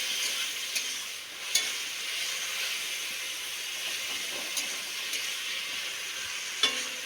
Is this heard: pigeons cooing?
no